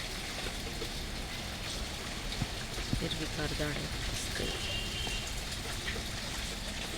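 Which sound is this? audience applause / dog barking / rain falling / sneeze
rain falling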